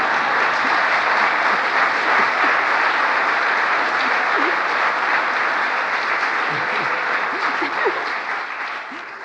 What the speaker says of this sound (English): I think that's an applause line.